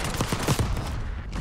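Rapid automatic gunfire in a Black Ops 6 multiplayer match, a fast train of close, sharp shots lasting about a second before tapering off.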